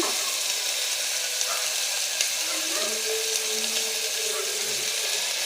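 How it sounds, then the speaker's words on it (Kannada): Cumin seeds frying in hot oil with a pinch of salt, giving a steady, close sizzle of crackling oil that runs throughout, with faint kitchen clinks and no talk. "ಸ್ವಲ್ಪ ಉಪ್ಪು ಹಾಕಿ ಎಣ್ಣೆಗೆ ಫ್ರೈ ಮಾಡಿರಿ"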